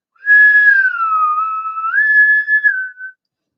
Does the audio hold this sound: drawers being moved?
no